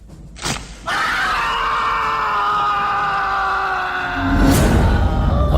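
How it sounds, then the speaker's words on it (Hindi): A horrified, drawn-out scream from a horror story, loud and sustained for several seconds, preceded by a short sharp crack and swelling into a heavier rumble near the end. "उसके पैर की हड्डी टूटने की आवाज और उसके साथ आरिफ की एक भयानक चीख गूंज पड़ी उस पूरे घर में"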